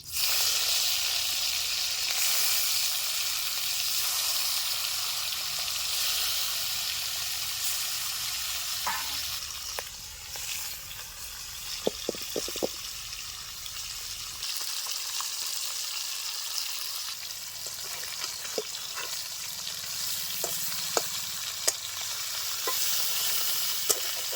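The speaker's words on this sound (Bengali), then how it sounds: "তেলটাও গরম হয়ে গেছে। মাছগুলি ভেজে নিচ্ছি।" Pieces of bau fish rubbed with turmeric and salt sizzle steadily in hot oil in a pan, a continuous loud hiss broken by a few sharp crackles and spatters, with no talking.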